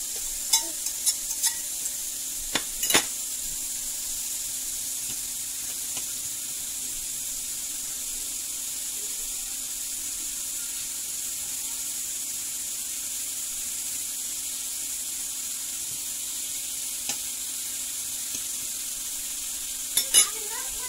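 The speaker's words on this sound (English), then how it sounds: "I'm gonna fry it with the lamb here." Potato pieces fry in a pan alongside lamb chops, a steady soft sizzle holding through with a few sharp clacks of a utensil against the pan near the start and end.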